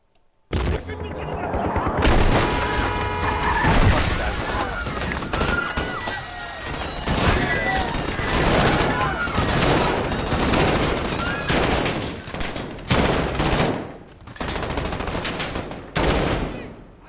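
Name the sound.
M4A1 rifle gunfire in video game Call of Duty Modern Warfare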